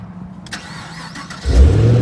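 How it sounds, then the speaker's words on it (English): A supercharged 2015 Chevrolet Camaro ZL1 cranks over briefly with a starter whir and then fires into a loud, deep, rumbling idle. It is close and alone, with no talking. "You guys are probably here to listen to this thing start up and rev and take off."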